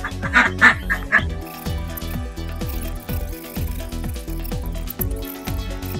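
Ducks quack repeatedly in a steady, close rhythm, their nasal calls overlapping as a flock gathers for breeding, with a few higher calls near the start.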